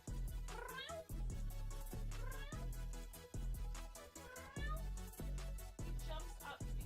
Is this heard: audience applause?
no